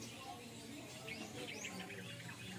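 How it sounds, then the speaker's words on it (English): Faint bird chirps and tweets echo softly against a hollow background hum inside a cave, several small calls overlapping. "you can hear the chirping of the birds inside"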